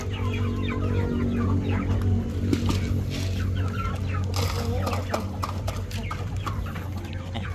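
Backyard chickens cluck and squawk near the microphone at feeding time, a busy, overlapping chatter over a steady low hum, with a voice speaking briefly.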